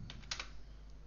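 Computer keyboard keys tapped to enter a password in a Linux terminal, a few quick faint clicks close by over a low steady hum.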